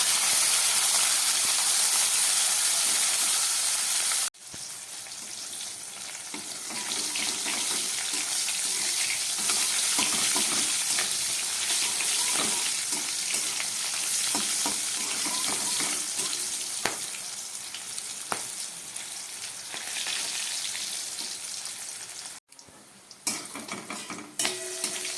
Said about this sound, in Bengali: এই তেলের মধ্যে এই নুন হলুদ মাখা উচ্ছেগুলোকে আমি ভেজে নিচ্ছি।